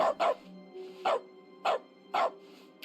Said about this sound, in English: We can bark.